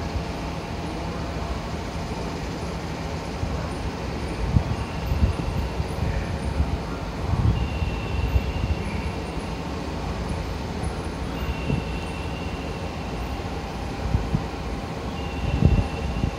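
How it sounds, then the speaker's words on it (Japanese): A JR 381 series limited express train rumbles steadily into Kurashiki Station, a low continuous drone and rolling mechanical noise, occasional faint high squeals above the steady roar. "5番乗り場に到着の列車は特急やくも4号岡山行きです。"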